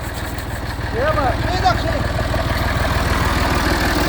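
A small engine runs steadily at idle in a village setting after being started, its low rhythmic chugging continuous throughout, with a faint higher whine briefly rising over it.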